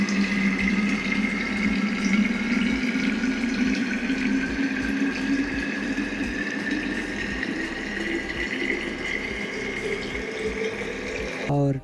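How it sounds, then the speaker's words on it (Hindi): A water bottle fills from an outdoor tap on a cold early morning: a steady, unbroken stream with a rising tone as the bottle fills, then a sharp knock at the end. "तो यहाँ से हम भर लेते हैं पानी सबसे पहले।"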